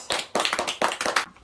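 A small family group gathered around gift boxes claps hands, several quick, close, uneven bursts of clapping in rapid succession before stopping.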